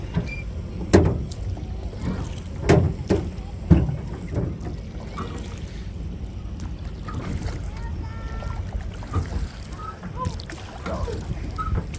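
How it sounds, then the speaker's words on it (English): Oars knock and splash in a slow rhythm against a small aluminum rowboat, a few louder thumps, with wind and faint background noise. "Nice, relaxing day rowing around."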